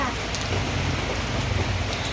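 Heavy typhoon rain pours steadily at a transport terminal, a loud dense hiss of downpour on surfaces with continuous spatter and no pauses over the short stretch.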